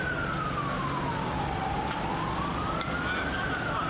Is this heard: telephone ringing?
no